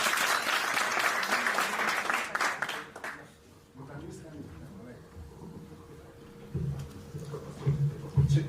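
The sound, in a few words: applause, clapping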